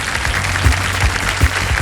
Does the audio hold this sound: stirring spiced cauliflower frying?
no